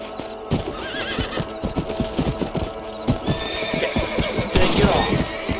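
A horse whinnies loudly in Red Dead Redemption while its hooves clop in an irregular run of close, distinct hits, with a sharp neigh near the end over game ambience.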